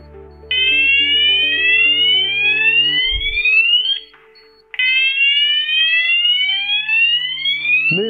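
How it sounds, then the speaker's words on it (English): A C-TEC Hush Pro fire alarm sounds a fire level 1 alert: loud repeating upward-sweeping electronic whoops over a lower buzzing tone, with a brief gap mid-way before the sweeps resume. "generate a fire level 1 alarm"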